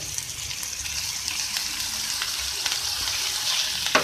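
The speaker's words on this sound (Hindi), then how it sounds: "आलू भी डाल के ऐसे फ्राई कर लें आप गाजरों के साथ" Carrots and potatoes frying together in a pan for vegetable samosa filling give a continuous soft sizzle with light crackles and occasional stirring scrapes, fairly quiet and close, without speech.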